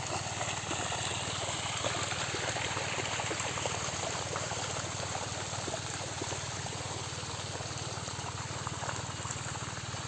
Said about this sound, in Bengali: আজকে বিকেলবেলা এসে জল দেওয়া হচ্ছে পটল খেতে।